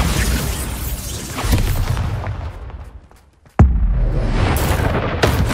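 The Confringo blasting spell in Hogwarts Legacy goes off amid heavy combat noise. Dense booming bursts fade into a brief lull, then a sudden sharp explosive crack leads back into loud, continuous rumbling.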